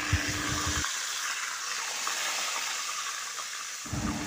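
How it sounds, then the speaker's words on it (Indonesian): Fish frying in hot oil in a Teflon pan gives a steady, close, loud sizzle and hiss throughout, with bubbling crackle and hot oil being spooned over the fish. "ini goreng ikannya cukup seperti ini, tuang-tuang minyak panas di atas uh, ikan yang tadi sudah dibalik"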